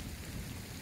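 Steady rain falls outdoors, a dense even hiss with a low rumble beneath, soft and continuous with no voices.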